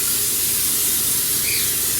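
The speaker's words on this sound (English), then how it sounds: "take our pan and we're going to spray it with some non-stick spray" Non-stick cooking spray hissing onto a waffle baking pan in one continuous, close burst lasting about two seconds, with no talking.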